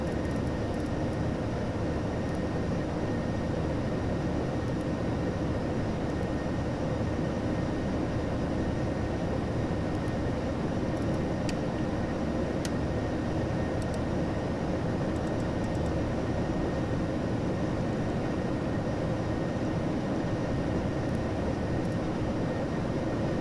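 Steady airliner engine roar in a flight simulator game as the jet climbs out after takeoff from Dublin, a continuous dense drone holding at an even level throughout, with no talking.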